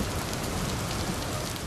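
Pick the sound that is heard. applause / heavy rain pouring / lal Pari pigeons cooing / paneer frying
heavy rain pouring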